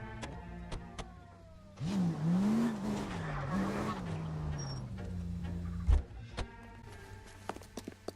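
A car in L.A. Noire accelerates and skids with a drawn-out tyre squeal over a low engine drone, followed by a thump and a few faint clicks.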